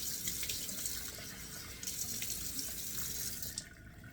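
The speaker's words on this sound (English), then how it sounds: "putting on the cold water here so we get a couple of splashes." Cold water runs steadily from a bathroom tap into a sink, a close, continuous splashing hiss that carries on without a break and eases off near the end.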